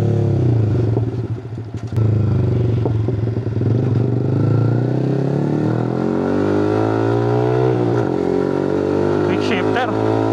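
A Vespa Sprint S150 scooter is ridden along with its engine note close and continuous, rising and falling as the rider changes speed. There is a clear drop and recovery partway through.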